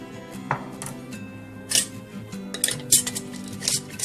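A metal lid and ring are set and screwed onto a glass pickle jar, giving scattered light clinks and scraping ticks, close and fairly soft, over a low steady hum.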